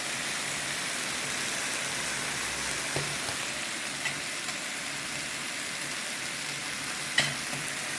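Diced dried hot pepper fries in hot oil for a Chinese hot and sour potato stir-fry, giving a steady, soft sizzle with a few faint clicks of stirring and no talk.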